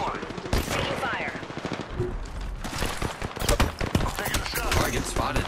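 Rapid gunfire crackles through a chaotic Apex Legends firefight, dense bursts of shots overlapping with game effects and brief voice callouts in the mix.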